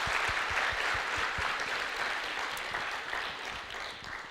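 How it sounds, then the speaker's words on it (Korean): A church congregation at a revival meeting claps in thanks to God, a broad, steady wash of applause that fades gradually toward the end, with no talking. "우리 하나님께 감사의 박수 드리시겠습니다"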